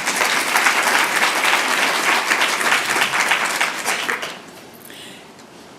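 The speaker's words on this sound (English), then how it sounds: "Give yourselves a round of applause" Audience at a women's philanthropy event bursts into loud, dense applause that carries steadily for about four seconds, then drops away to scattered clapping and room noise.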